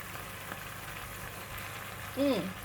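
Soft, steady bubbling and sizzling of liquid boiling in a pan while cooking steamed tofu with minced pork, with a brief voice near the end.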